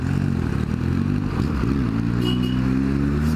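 An orange Kawasaki Z750 motorcycle engine revs loudly and close, a steady deep roar with rising and falling pitch as the throttle is worked, continuous throughout.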